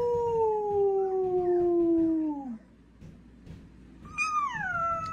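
A cat lets out a long, drawn-out yowl that slides downward, then after a short pause gives a second, higher meow that falls away.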